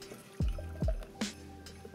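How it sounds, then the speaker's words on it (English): Blended maple and soy glaze splashes from a blender jug into a saucepan in a few thick, close plops and glugs, then a brief drip. "Okay, so I'm going to pour this into my saucepan here."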